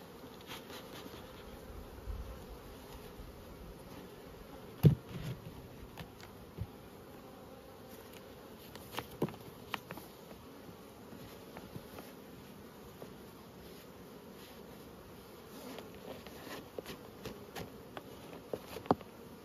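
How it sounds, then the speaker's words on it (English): A few hundred honey bees buzz inside a plastic varroa wash bottle during a hive check, a steady close insect drone with scattered small ticks and taps from the bottle. No voices. "So we've got our bees in our wash bottle,"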